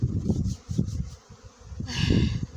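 Honey bees flying around apiary hives during a strong cleansing flight in January, a close, loud buzzing swarm that swells and fades in waves, with no talk.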